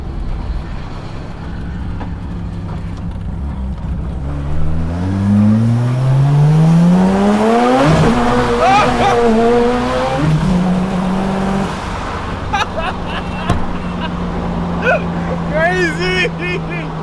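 A big-turbo Mazda RX4 with a bridgeport rotary engine revs hard, pitch climbing steeply through a loud acceleration, then dropping and settling into a rough, buzzing idle, with people talking nearby.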